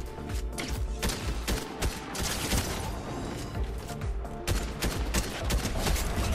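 Rapid gunfire from a weapon in the video game Fortnite; loud, dense bursts of shots fire in quick succession, filling the whole stretch with a few brief gaps and no voice over it.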